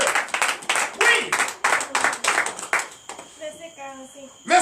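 Members of a church congregation at a night deliverance service clap in acclamation of God. Sharp rhythmic handclaps sound in bursts for about three seconds, then give way to singing voices and a sustained tone.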